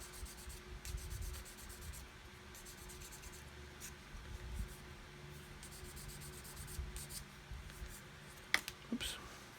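A knife scrapes a moulding nib off a plastic part of an Airfix new-tool 1/72 Vulcan model kit: faint, close, intermittent scratchy rubbing, ending with a sharp small click.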